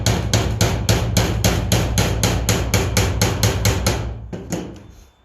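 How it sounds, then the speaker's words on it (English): Steady, evenly spaced hammer blows drive nails into a wooden picket frame, about a dozen loud, close strikes in a regular rhythm before a few lighter taps and a fade. "I'm gonna finish nailing the middle"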